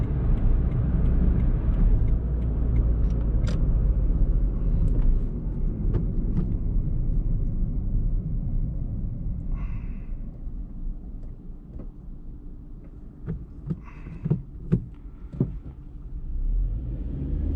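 A 2008 Suzuki Swift 1.3 Shogun engine while driving, heard as a steady low rumble inside the car with a few faint clicks and knocks and no talk.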